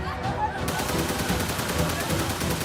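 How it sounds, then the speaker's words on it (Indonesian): Rifle gunfire in a battle, rendered as a sound effect: dense, continuous crackling shots at moderate volume that form a steady rattling barrage with no clear gaps. "Mulai terdengar suara tembakan bedil yang beradu dengan tombak dan keris."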